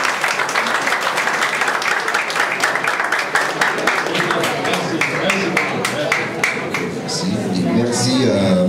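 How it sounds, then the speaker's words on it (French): A conference audience applauds, thick rapid clapping that runs steadily and then thins out toward the end as crowd murmur and a voice come through. "Nous vous demandons encore une fois un applaudissement."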